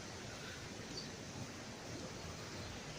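The Waterfalls of Algar on the Costa Blanca give off a steady, broad rushing roar heard from a short distance, continuous and even throughout, with no voices.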